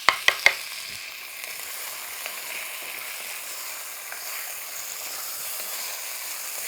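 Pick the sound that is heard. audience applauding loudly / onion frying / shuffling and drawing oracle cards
onion frying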